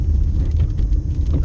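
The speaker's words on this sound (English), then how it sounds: "certainly having lightning and thunder, that's really rare" Thunder rumbles low and continuously through a rare desert storm near Las Vegas, a deep steady roll that stays loud without a break.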